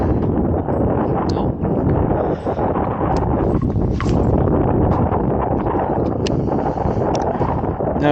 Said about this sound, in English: Now with this wind blowing down